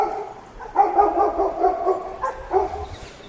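Dogs in Tortel, a Patagonian village of wooden boardwalks, bark in a short burst of several yelps and woofs at moderate distance, a few overlapping calls in uneven rhythm.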